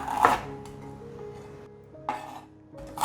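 A knife slices ginger on a cutting board, giving just a few sparse, quiet cuts spaced apart, with faint clinks and no voices.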